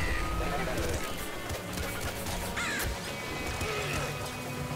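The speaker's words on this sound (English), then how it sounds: "We got, the birds flock coming south for the winter here." Flock of birds in the game Nuclear Throne cawing in a busy mix of harsh calls, layered with frantic gunfire and game effects while a person talks over it.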